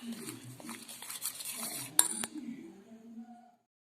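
A spoon scrapes and clinks against a bowl while turmeric and lemon are stirred together into kumkum, soft irregular stirring topped by two sharp metallic taps near the end.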